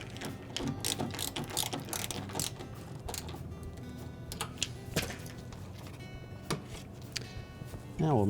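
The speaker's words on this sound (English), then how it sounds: "reinstall that 5/16 hex head screw" A ratchet drives a 5/16 hex head screw into a General Electric refrigerator cabinet, producing rapid, close metallic clicking in bursts with brief pauses.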